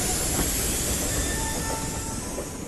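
A train pulls away from a station platform, its steady rumbling roar carrying faint metallic wheel squeals and rhythmic clatter throughout, loud and close.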